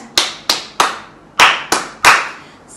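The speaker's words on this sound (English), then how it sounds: "Simon says, clap your hands" Six crisp hand claps at home during a children's Simon Says game, loud and close, spaced in two groups of three with short quiet gaps between.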